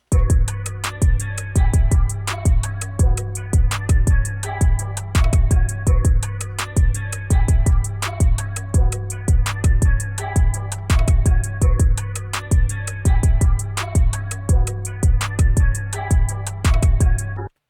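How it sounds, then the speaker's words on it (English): A full hip-hop beat loops steadily with booming distorted 808 bass, rapid ticking hi-hats and sharp snare hits layered with melodic synth stabs, loud and continuous for about seventeen seconds with no voices. "the whole entire beat sounds like this."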